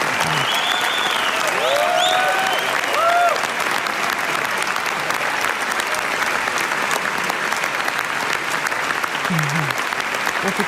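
Sustained, dense applause fills a hall in a film clip, steady and loud throughout, with short voice-like tones rising briefly above the clapping.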